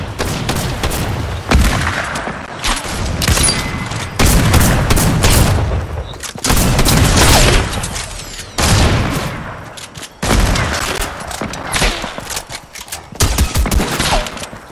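Rapid gunfire from a drum gun in a shooter video game, loud repeated bursts of automatic fire with brief gaps between them, filling the whole stretch close and heavy.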